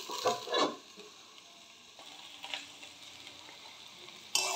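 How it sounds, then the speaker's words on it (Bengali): Potato and onion stalks fry in a pan with a soft, steady sizzle, broken by a few louder stirring scrapes near the start and a brighter burst at the end. "এটা এখন আমি খানিকক্ষণের জন্য একটু ভাজা হতে দেবো"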